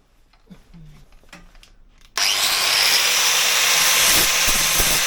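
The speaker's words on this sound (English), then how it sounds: "I'm just going to tidy it up a bit with a flat disc, get rid of the burrs on the edge of the metal" A flat disc on a grinder deburring the edge of a small stainless steel piece for a Honda CB77 footrest, starting abruptly after a few quiet knocks and then running as a loud, steady, harsh grinding roar.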